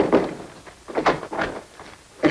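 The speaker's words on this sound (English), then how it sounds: "In that case, I'll knock." Several knocks on a door in a 1947 Dick Tracy film scene, coming as short separate raps with gaps between them, moderately close and clear, with no talk over them.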